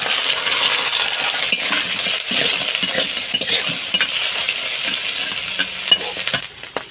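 Crabs fry in a hot pan with a loud, continuous sizzle, broken by scraping and tapping as a utensil stirs and knocks against the pan.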